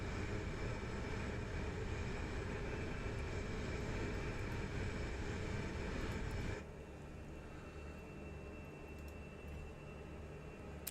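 Fenix A320 airliner engines heard from outside the aircraft in Microsoft Flight Simulator 2020, a loud, steady jet roar with a constant high whine that abruptly drops to a quieter, duller rumble partway through.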